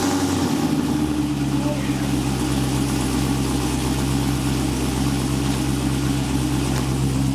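A Pontiac Trans Am with a swapped-in LT engine runs steadily with a deep, continuous exhaust rumble, heard close up for several seconds without pause.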